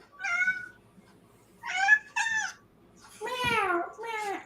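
A house cat meows several times at close range, short rising and falling cries spaced through a quiet room, with a final pair of longer, louder meows.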